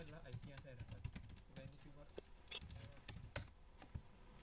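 Computer keyboard keys clatter in quick, irregular bursts of close clicks while configuring OpenVPN on a Debian server, with a person talking over the typing throughout.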